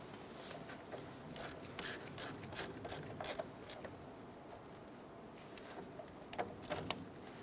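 Ratchet snugging down caliper bolts on a 1993-1997 Ford Ranger gives faint, close clicking in short irregular runs over a quiet background hiss.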